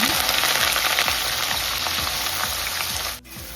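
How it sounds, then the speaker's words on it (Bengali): Onion frying in hot oil for a spicy mutton curry, with a loud, dense, continuous sizzle up close that briefly drops away near the end. "তেলটা গরম করে আমি আমার পেঁয়াজ দিয়ে দিই।"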